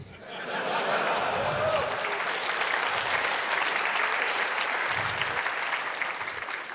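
An audience at a hacker conference talk bursts into loud, sustained applause that swells quickly, holds steady for several seconds and tapers slightly at the end, with a voice briefly underneath.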